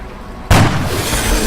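A soldier's single gunshot in the video game X-Com, a loud sudden blast that cuts in out of near silence and leaves a long, ringing boom behind it.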